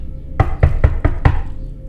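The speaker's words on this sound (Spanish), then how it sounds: "escuché que llamaban a la puerta" Five firm knocks on a door land in a quick, even rhythm within about a second, close and loud over a low background rumble, used as an effect in a narrated horror story.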